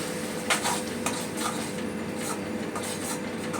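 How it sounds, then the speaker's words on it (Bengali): Spices for a vegetarian potato curry are stir-fried with a splash of water in a pan, giving a steady soft sizzle broken by a few scraping stirs of the spoon. "হালকা জল দিয়ে এবারে কষাবো"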